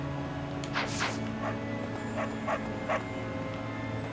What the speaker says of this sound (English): And then there's the random dog sitting over there. Well, standing over there barking.